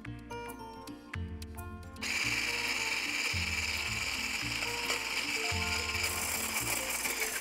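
Electric mixer beating egg whites with sugar and lemon juice, a loud steady whir with rhythmic pulsing as the beaters knock around the bowl, running continuously with no talk.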